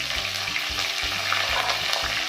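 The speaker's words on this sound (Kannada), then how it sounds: "ಹಾಕೊಂಡು ಚೆನ್ನಾಗಿ ಫ್ರೈ ಮಾಡ್ಕೋಬೇಕು" Onions and ginger garlic paste sizzle steadily in hot oil in a pan for an aloo matar curry, a continuous close crackling fry with faint stirring scrapes and no talk.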